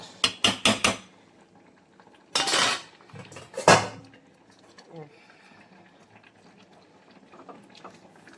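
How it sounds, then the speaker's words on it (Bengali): Chicken curry with winter radish is stirred with a few quick metal clinks against the pot, followed by two louder clanks as a lid is set on, then a quiet simmer with a muffled voice. "এবার নাড়িয়ে দিলাম নেড়ে এবার ঢাকা দিয়ে দেব"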